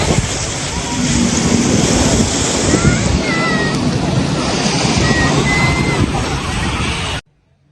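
Surf washing ashore at Elephant Beach on Havelock Island in the Andamans, a steady broad roar of breaking waves with sloshing water that continues unbroken at close range until it cuts off abruptly near the end.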